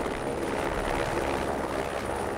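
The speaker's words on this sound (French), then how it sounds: "L'hélicoptère s'approche de la première estive." Helicopter flying over the Pyrenees mountains near high summer pastures, its rotor and engine a steady, fairly close drone that holds without a break from start to end, with no voices.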